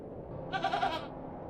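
A disagreeable goat in the video game The Excavation of Hob's Barrow gives a single short, nasal bleat midway through, moderately loud over a quiet low ambient hum.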